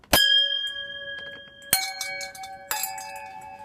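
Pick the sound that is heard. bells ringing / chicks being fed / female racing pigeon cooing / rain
bells ringing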